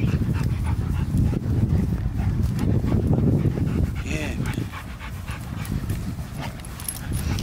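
Dogs, one wearing a red collar, heard close up with panting and dog noises mixed into steady loud rumble and people talking throughout.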